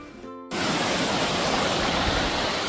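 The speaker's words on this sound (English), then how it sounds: "what only can be described as the biggest waterfall in the Lake District" The biggest waterfall in the Lake District roars as a loud, steady, broadband rush of falling water, bursting in abruptly after a brief quieter moment at the start and holding constant without a break.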